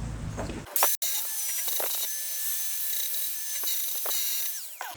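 An angle grinder shapes a wood or stone climbing hold, a loud sustained high-pitched whine with a steady tone that dips slightly as the disc bites, after a brief rough start.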